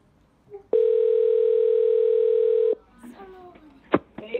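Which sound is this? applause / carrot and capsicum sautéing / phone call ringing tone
phone call ringing tone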